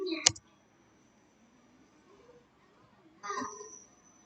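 Enter pressed on a computer keyboard while typing terminal commands inside a VMware virtual machine: two separate sharp clicks about three seconds apart, close to the microphone, with near silence between.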